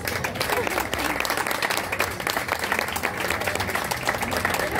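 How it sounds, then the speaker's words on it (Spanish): Audience at an outdoor National Artisan Day celebration in Sarchí applauding for Andrea, a steady, dense round of clapping lasting several seconds with some crowd voices mixed in. "Quiero que le demos un aplauso a Andrea"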